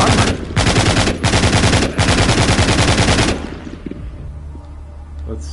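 A Gatling gun in the zombie shooter video game The Walking Zombie 2 fires in loud, dense continuous bursts with brief gaps, then cuts off into quieter game ambience.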